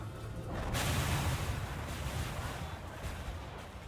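A booming, crackling blast of spell abilities in the battle game Total War: Warhammer 2, a dense roar that swells sharply and then rumbles on and slowly fades.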